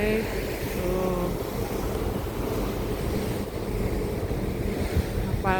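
Steady rumble of the ship Dharma Citra 8's engine at dawn, mixed with wind buffeting the microphone and washing sea, continuous and fairly loud, with brief voices at the start and end.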